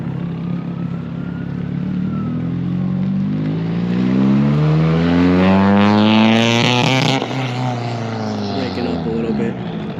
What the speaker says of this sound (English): I love the sound of turbo flutter.